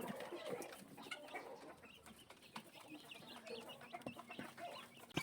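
Chicks peep and cheep noisily and without pause in a late-afternoon coop, calling for the mother hen, with occasional clucks mixed into a dense, close chorus.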